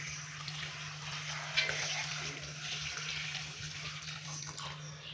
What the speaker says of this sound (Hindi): और अभी हम इसके अंदर डालेंगे पानी।